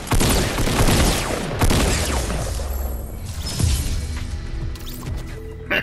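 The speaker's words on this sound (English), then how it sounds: "shot that dude with a shotgun right in his head" Shotgun blasts and chaotic combat noise in Fortnite, loud and dense throughout, with several heavy booming shots and crashes layered over continuous game action.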